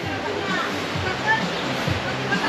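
Waves wash continuously along a Philippine seashore, a steady broadband rush with soft surges rather than distinct breaking crashes, steady and fairly close throughout.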